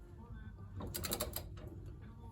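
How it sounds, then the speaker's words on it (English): A socket wrench fitted with an extension ratchets briefly during work in a car wheel well, producing a short cluster of quick, fairly faint clicks against low background rumble. "I have to lift up on the head of the socket wrench or it falls off."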